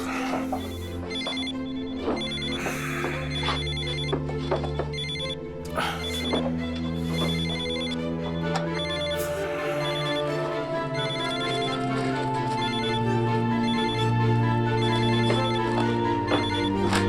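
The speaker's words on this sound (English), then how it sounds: "Come on, Gray, pick up the phone" A phone rings repeatedly with an electronic ringtone, steady and persistent over a full backdrop of dramatic music and ambient sound, with no clear speech.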